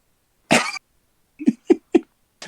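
A person coughs in a short series: one harsh, drawn-out cough, then three quick, sharper coughs in a row and the start of another, close and fairly loud with no talking.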